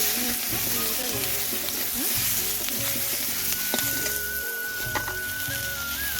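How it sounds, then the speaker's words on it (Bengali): Potatoes and onions sizzle and crackle steadily frying in a hot pan, with occasional stirring scrapes and faint music in the background. "ভাজা ভাজা হচ্ছে"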